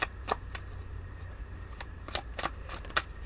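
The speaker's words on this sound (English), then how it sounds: "this holographic deck. It is new and it is difficult to shuffle" Someone shuffles a new, stiff holographic tarot deck, producing scattered quick riffling snaps and card flicks at close range over a quiet room hum.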